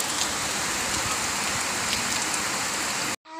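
Rain falling steadily on surfaces outdoors, a dense even hiss with scattered drops pattering close by, cutting off briefly just before the end.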